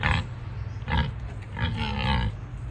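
Pigs grunt at feeding time on a small farm, giving several close, low, rough grunts in short bursts with brief pauses between them.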